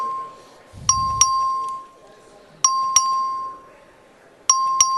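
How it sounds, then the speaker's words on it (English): A voting bell in a state House chamber rings in three bursts, each a bright metallic double ding, loud and clear against quiet room tone, with a brief low rumble near the first ring. "Clerk will ring the bell."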